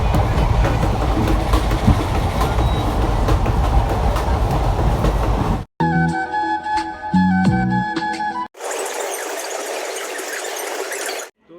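A train runs on rails in Assam, near Alipurduar station, with broadband rumble and rattle, then a stretch of squealing, clanking metal and a high hiss, with no talk over it.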